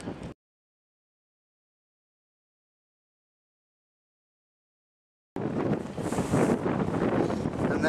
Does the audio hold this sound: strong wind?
yes